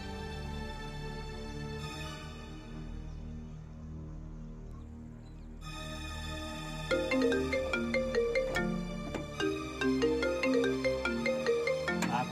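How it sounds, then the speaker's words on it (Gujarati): A phone ringtone plays a bright melodic tune that grows louder and repeats in quick pulsing notes, heard close and without voices, in a Gujarati comedy scene. "આઘુનો ફોન."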